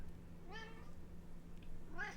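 A cat meows twice in the video game Monster Lab Simulator, two short, clear, rising-and-falling meows about a second and a half apart over a low background hum.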